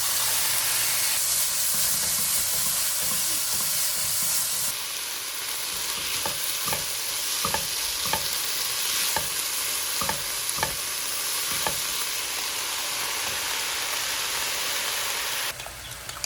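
Meat sizzles and hisses in a hot pan over high heat as it is stir-fried with onion and mushrooms for japchae, a steady close frying roar broken by repeated quick scraping strokes of stirring.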